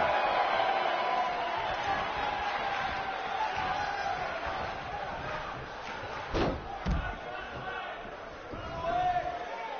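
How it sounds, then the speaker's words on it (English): A sold-out arena crowd in the WWE 2K19 wrestling game roars and cheers steadily throughout under commentary, with a couple of sharp ring thuds partway through. "These guys giving this sold-out crowd exactly what they came to see."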